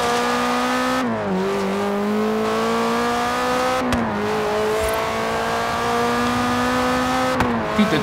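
Cars racing in Forza Horizon 3, a continuous loud engine drone with rising revs and sharp gear shifts at intervals, other cars around.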